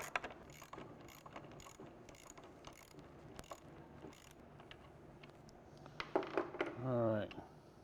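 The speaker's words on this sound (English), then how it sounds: "we'll remove the four 13mm nuts" A ratchet removes 13mm nuts from a SlimFit cleaner, giving close, rapid clicking in repeated bursts, with a voice speaking briefly near the end.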